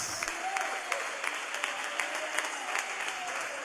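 Church congregation applauding during a sermon, a steady wash of many hands clapping at moderate distance with a faint voice underneath, sustained evenly throughout.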